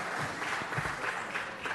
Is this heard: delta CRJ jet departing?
no